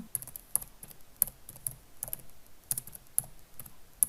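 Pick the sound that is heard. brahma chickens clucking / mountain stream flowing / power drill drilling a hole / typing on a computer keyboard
typing on a computer keyboard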